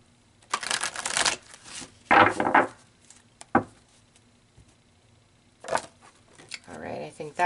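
Tarot cards being shuffled and pulled from a deck: a few short bursts of riffling and card slaps with pauses between, close and fairly soft.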